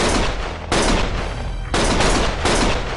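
Gunfire in the video game Lost Judgment, loud dense bursts of rapid shots in three sustained volleys with brief gaps between them, close and harsh.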